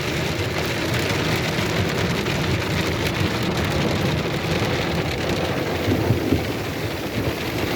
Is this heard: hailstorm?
yes